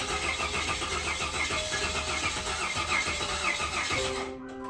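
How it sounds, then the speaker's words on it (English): A Ford EA Falcon with a swapped-in Barra engine cranks loudly and rhythmically for about four seconds, then stops abruptly without catching, leaving a faint ringing tone. "After many attempts of trying to start the car for the first time"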